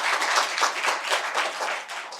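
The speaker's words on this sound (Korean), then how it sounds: "괜찮으면 박수를 한번 칩시다." A church congregation claps hands together in a brief, uneven burst of moderate loudness, with individual claps blending into a short ripple.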